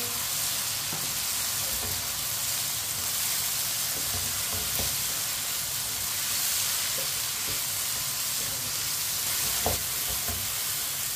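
Chopped onions fry in a hot pan with a steady, close sizzle and faint stirring scrapes throughout, with no other sounds over it.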